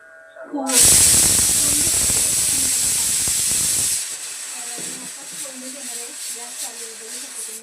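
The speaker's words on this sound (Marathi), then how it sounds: "कुकर मी लावलेले, शिटी मारते," A pressure cooker whistle blasts as a loud, continuous steam hiss for several seconds, then cuts off, leaving quieter kitchen background with faint talk.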